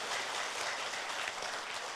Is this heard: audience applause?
yes